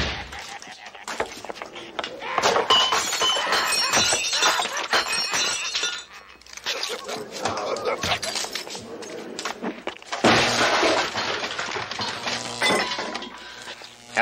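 A radio shot apart with a loud shattering crash of breaking glass and debris, followed by dense, sustained clattering noise that dips briefly and surges again.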